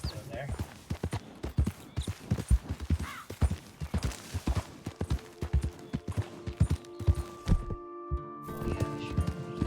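Rhythmic clopping of horse hooves on hard ground in a PS5 video game, a steady walking pace with a few louder thuds, nearby and fairly clear.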